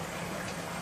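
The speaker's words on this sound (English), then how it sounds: "The water is going to drain from the sump pump to outside of the house. The noise is normal." A sump pump drains aquarium water during a tank water change, giving a steady, close gushing rush of liquid with a low pump hum underneath.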